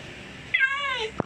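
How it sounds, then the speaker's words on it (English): A cat in a video game gives one clear, drawn-out meow that falls in pitch, followed by a short thud, over a low game background hum. "You can feed this cat infinitely if you want."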